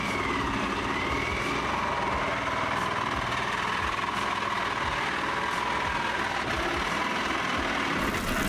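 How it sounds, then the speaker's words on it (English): A small portable generator engine runs steadily and continuously at close range, a dense constant drone with no pauses and no speech over it. "I'm gonna have to yank and yank and yank on that stupid generator."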